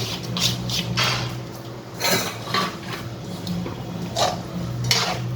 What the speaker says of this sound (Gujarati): હવે આને આપણે હલાવી લઈશું